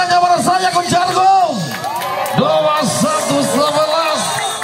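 At a men's volleyball tournament match, spectators cheer, shout and whoop together loudly, with scattered clapping mixed into the noisy hall.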